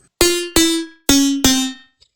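Four bright, plucked-sounding synth lead notes in a high register strike one after another, each decaying quickly, with a tiny click at the end and nothing else heard.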